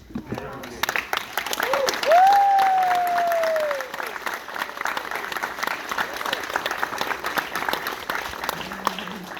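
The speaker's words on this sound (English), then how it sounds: "can you all stand up and just give a round of applause?" Audience applause for a film's cast and crew at a Q&A screening, building from about one second and continuing steadily, with a voice speaking over the start and a faint tone sweeping through it.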